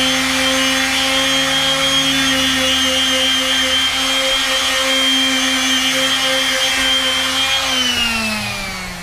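A power sander works a wooden deck during restoration, a steady loud motor whine with a humming drone running continuously up close, its pitch dipping slightly near the end.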